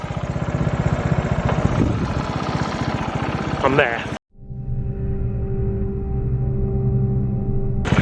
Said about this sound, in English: I've left the engine running because if it doesn't start again, I'm almost certainly dead.